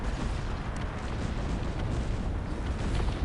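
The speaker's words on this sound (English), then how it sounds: "More art, more howitzers." Howitzer artillery keeps firing in the Cossacks 3 video game, a dense and steady wash of booms and blasts at moderate volume that runs throughout with no clear pauses.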